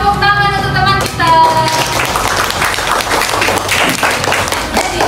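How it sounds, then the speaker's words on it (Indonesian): Loud applause from a fifth-grade primary school class fills the room, dense and continuous, with a sung or spoken phrase briefly audible at the start. "Tepuk tangan untuk teman kita."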